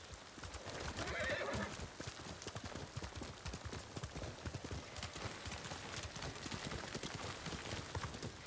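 A horse whinnies and its hooves clip-clop in a steady rhythm in the video game Ghost of Tsushima, with loud continuous hoofbeats throughout and a neigh early on.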